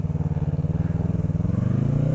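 A 2015 Yamaha R3 motorcycle engine runs close up with a steady, pulsing throb that rises slightly in pitch as it revs toward the end.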